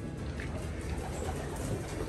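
A racing pigeon that has just landed at its loft during a hard club race gives soft, low cooing calls, close by and fairly quiet, with steady background hiss.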